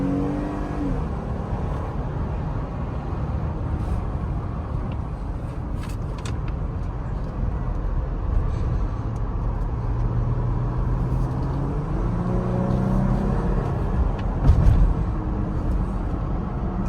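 Cabin noise in a moving 2023 Jeep Gladiator Rubicon: a constant low roar of tire and road rumble mixed with wind rush, with the engine note rising and falling slightly, steady and without talk.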